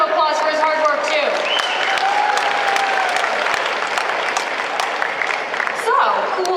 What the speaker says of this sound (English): so let's give him a round of applause for his hard work too